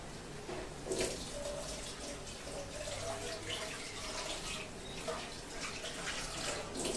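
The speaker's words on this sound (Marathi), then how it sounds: "ह्या भांड्याला जे सगळं खाली राहिलेलं असतं याच्यात थोडं पाणी घालून घ्यायचं" Water splashes and trickles steadily into a cooking pot close up to rinse out leftover pav bhaji residue, a continuous watery pour with a few sharper splashes along the way.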